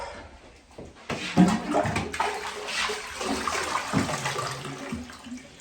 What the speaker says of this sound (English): It's a weird flush on there, I'll admit. It is a bit of a weird flush.